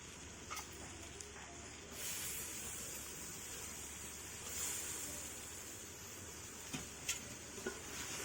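Prawns fry in a pan with ginger-garlic paste, a steady low sizzle running throughout with occasional soft scrapes and clinks of stirring, no talk.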